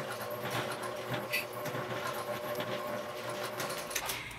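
A sewing machine runs steadily along a 3/8-inch seam on a bag, a continuous quiet mechanical whir with a fast stitching rhythm and no pauses.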